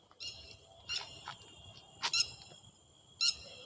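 A few short, bright bird calls ring out at intervals over a quiet nighttime forest background, moderately distant and faint.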